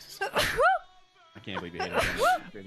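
A streamer sneezes twice, each a sharp close burst with a rising vocal tail, about a second and a half apart. Brief speech runs between and around the sneezes.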